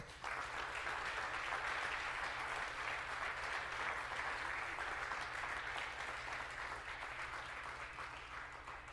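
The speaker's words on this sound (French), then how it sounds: "je vous demande de les applaudir très fort" Crowd at a municipal council meeting applauds loudly, a thick continuous wash of clapping that holds steady throughout and eases only slightly toward the end.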